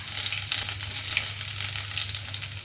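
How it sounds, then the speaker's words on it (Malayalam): Ginger sizzling and frying in hot oil in a pan after mustard seeds have popped, a steady close crackle with no talk, while cooking a Kerala fish curry. "കടുക് പൊട്ടിക്കഴിഞ്ഞാൽ നമുക്കിനകത്തേക്ക് ഇഞ്ചി ഇട്ട് കൊടുക്കാം."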